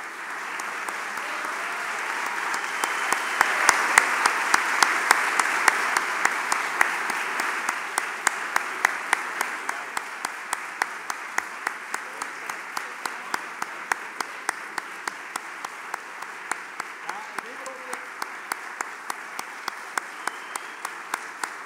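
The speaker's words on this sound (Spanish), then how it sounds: "Un fuerte aplauso para ellos, por favor." Broad audience applause greets the award recipients at a Mexican customs brokers' congress book presentation, swelling early then settling into synchronized rhythmic clapping that continues steadily to the end.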